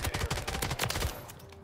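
A double barrel SMG fires a fast, loud burst in Modern Warfare 3. The rapid shots are close, and the rattling pulses fade out after about a second.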